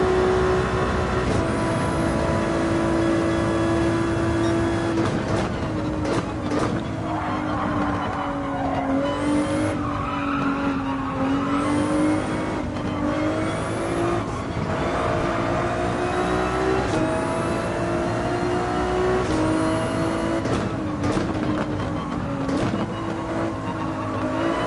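A Ferrari 296 race car at Spa in a racing video game, its engine droning steadily at high revs through shifting pitch, with brief tyre squeal and skids, loud and continuous with no talk.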